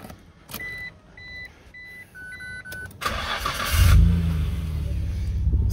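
A 1995 Nissan Skyline R33 GTR chimes several times before its warm engine cranks, catches and settles into a loud, steady idle rumble close by.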